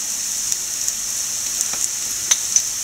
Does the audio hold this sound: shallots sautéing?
yes